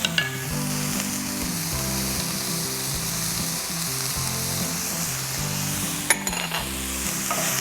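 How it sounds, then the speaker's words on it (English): Garlic sizzling with softened peppers and onions in a hot pan, a loud continuous close-up fry with steady crackle, while low tones run beneath and a brief clink comes near the end. "And I saute that just for a moment."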